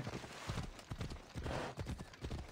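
A horse's hooves clip-clop at a steady walking rhythm in Assassin's Creed Odyssey, the even beats fairly close and clear over a soft game ambience, with no voices.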